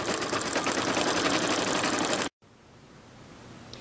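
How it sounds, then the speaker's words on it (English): An embroidery machine stitching a design over a layer of Mylar, a loud, rapid, steady mechanical chatter that cuts off sharply after about two seconds, leaving a quiet room hum. "Once the Mylar is in place, you can go ahead and start sewing."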